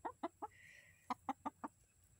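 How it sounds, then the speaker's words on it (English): A rooster gives soft, rhythmic clucks in two quick runs of three and four, with a faint high tone in between, fairly quiet. "You're a mighty, mighty rooster."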